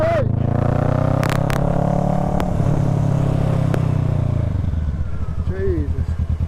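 A motorcycle engine drones steadily and loudly while riding, then the tone drops and roughens as it slows, with a voice speaking over it.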